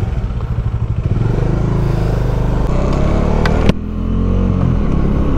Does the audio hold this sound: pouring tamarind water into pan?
no